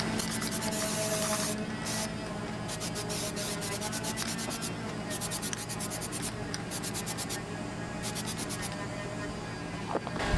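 Aerosol Plasti Dip sprayed in steady passes onto a car interior panel, a continuous close hiss broken by short pauses between bursts, with rubbing and handling noises underneath.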